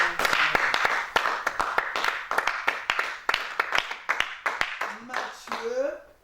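Church congregation clapping during a French-language worship service, a steady run of sharp handclaps that thins out toward the end, with a voice speaking or singing over it.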